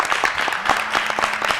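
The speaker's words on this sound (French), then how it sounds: "On applaudit bien fort." Crowd applause at a mosque gathering in Riviera Golf, a dense, steady patter of many hands clapping close by for under two seconds.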